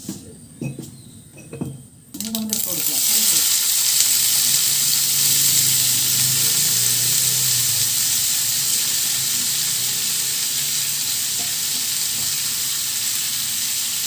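Mustard seeds are dropped into hot oil for a simple coconut-free curry. A few light clinks and scrapes come first, then a loud, close, sustained crackling sizzle with no talk over it.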